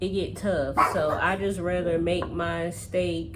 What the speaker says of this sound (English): please excuse my dog. She always want to start barking when I start recording.